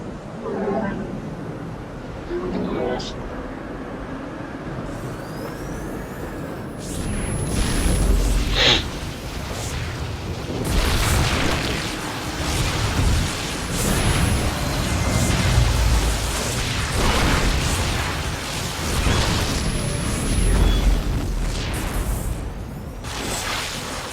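Cannons firing at a hybrid enemy in StarCraft II: Legacy of the Void, heard as repeated deep booms and explosive bursts that swell in the second half, mixed with battle effects and in-game voices.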